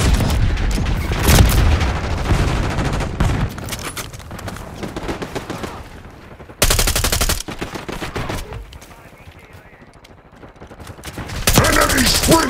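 Call of Duty multiplayer battle with dense, loud gunfire bursts and heavy booms, including a frag grenade thrown and blowing up amid the shooting, some distant, some close.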